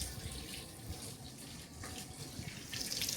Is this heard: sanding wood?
no